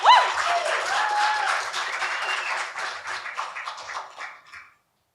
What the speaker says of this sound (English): Please give a very, very big round of applause for Dylan Washington.